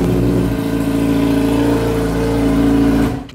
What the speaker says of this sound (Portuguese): Na lenta parece que a CB1000 faz mais barulho que a XJ